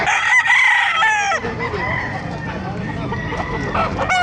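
Hens and roosters at a Baliuag market fill the air with repeated loud crowing and clucking, several birds calling close by over a busy crowd murmur.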